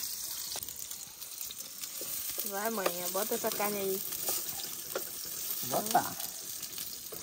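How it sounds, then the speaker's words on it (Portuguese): Onion frying in a pan in a farmhouse kitchen gives a steady, soft sizzle throughout, with brief bits of talk over it. "Cebola fritando, mamãe."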